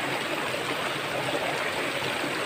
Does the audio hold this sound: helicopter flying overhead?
no